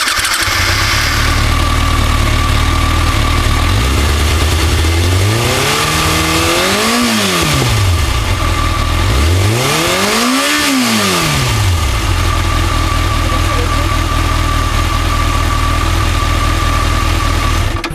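Kawasaki ZX6R 636 sport bike with an aftermarket exhaust line and catalytic converter, idling steadily and then revved twice in long swelling blips that rise and fall back to idle, close and loud with no talk.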